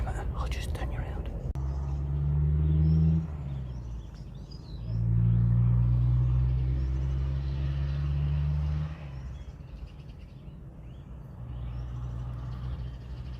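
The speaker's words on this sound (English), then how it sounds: "He's just slowly driving down the road now" A car passes slowly along a road near an electricity substation, its low engine rumble rising and fading twice, while someone whispers nearby and birds chirp faintly.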